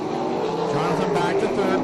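Several 360 sprint cars roar together around a dirt oval in a tight pack, a steady dense engine drone holding loud and close for the whole stretch, with a race announcer's voice running over it.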